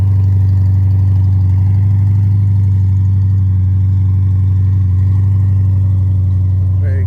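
Corvette with a Callaway exhaust idles loudly right after a cold start, a steady deep droning burble that stays constant and close throughout.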